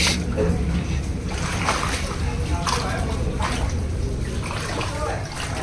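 Floodwater splashing and sloshing inside a room in Mumbai during heavy rain, in repeated bursts, close by and fairly loud, with people talking over it.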